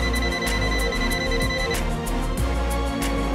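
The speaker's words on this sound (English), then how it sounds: "NCV non-contact induction, buzzer sound when voltage is sensed." An ANENG ST182 Pro digital clamp meter's non-contact voltage buzzer beeps in a fast, steady repeating pattern of short electronic tones, close and fairly loud, with no talking.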